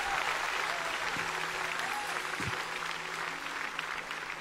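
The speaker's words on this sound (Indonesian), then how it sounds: "Yang percaya, kita berikan tepuk tangan buat Tuhan." A church crusade congregation claps together in steady, dense applause, a fairly distant wash of hands with faint crowd murmur beneath and no talking over it.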